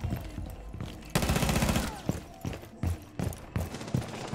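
Muffled video-game gunshots through a wall in Rainbow Six Siege: a sustained burst of rapid fire followed by several separate thumping single shots at uneven intervals, fairly quiet overall.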